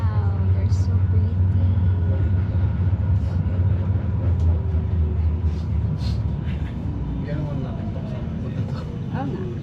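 A train ride in Amsterdam: steady low rumble and rolling wheel noise of the carriage throughout, loud and close, with faint squeals and a few background voices.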